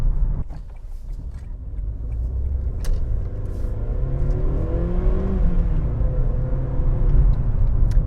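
A Vauxhall Corsa C 1.2 litre 16-valve engine runs with a rough, throaty drone that swells a little as it revs, heard from inside the cabin with road rumble and no talking.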